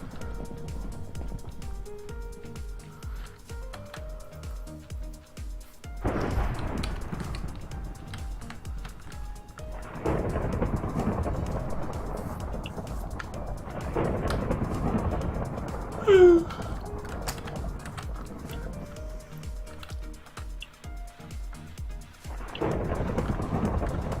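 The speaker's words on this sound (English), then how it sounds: "I think the thunderstorm noises go to your head." Minecraft thunderstorm in a video game: steady rain hiss with several rolling thunder rumbles that rise and fade, a sharp burst partway through, with no talk.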